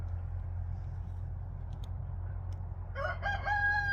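Guinea fowl call near dusk on a farm, harsh repeated squawking cries breaking in over the last second after quiet low rumbling background noise, fairly close and without talk.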